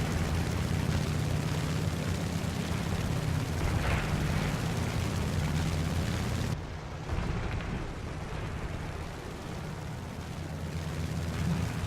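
Heavy anti-aircraft fire bursts and booms over steady aircraft engine drone in the War Thunder flight game, a dense continuous barrage with a brief dip midway before resuming.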